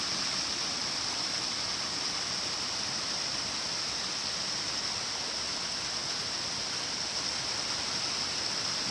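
Cold mountain stream on a hiking trail, a steady, even rush of flowing water that fills the whole stretch with constant broadband hiss and no other sounds.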